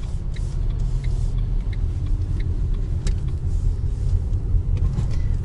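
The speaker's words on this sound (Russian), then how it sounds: "Вон машина выезжает." A car pulls out of a market parking lot in Kirov, heard from inside a vehicle as a steady low engine rumble and road noise with faint ticks and clicks, no talking.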